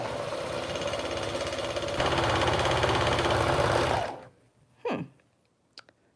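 A vintage Baby Lock overlock serger sews fabric with a loud, steady mechanical whirring and rapid stitching hum. The pace picks up slightly halfway, then the machine winds down and stops, followed by a few small clicks and a soft thump.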